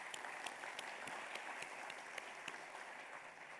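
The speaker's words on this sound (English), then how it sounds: "Maybe you can join me in a round of applause for them." A room full of people claps in a sustained round of applause for the Dasra team at an Indian event on social impact and scale, with dense, steady clapping and a few sharper claps standing out.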